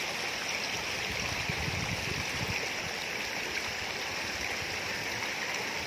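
Water flowing along a stream in a rural village where residents draw bathing water, a steady broadband rush that holds at an even level throughout without pause.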